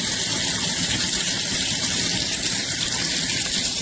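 Water gushes steadily from a KENES matte black rainfall shower faucet under strong household pressure, a loud, even, hissing spray that runs without a break.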